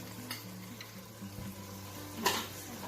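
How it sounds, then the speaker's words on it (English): Tomato paste being stirred into seasoned chili meat in a pot, with a soft steady sizzle under light scraping from the spoon and one brighter clank near the end, close and faint. "And we'll start stirring that up."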